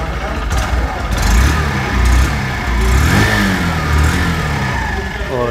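Exhaust note of a 2023 Honda Shine 100cc motorcycle just after starting, a steady mid-pitched single-cylinder idle with slight swells, close and loud, while someone talks over it throughout.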